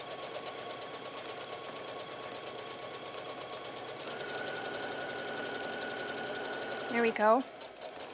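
A sewing machine hums steadily at a low, quiet level while stitching decorative stitches on a pillow cover. A brief voice speaks near the end.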